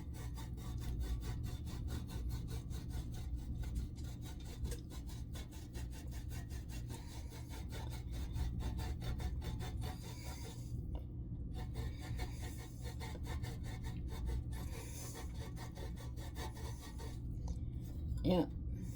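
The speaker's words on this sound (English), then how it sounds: "we're just going to grate it all over the pizza" A hand grater rasps cheese over a homemade pizza in steady, continuous strokes, close and fairly loud, with a brief pause partway through and a small bump near the end.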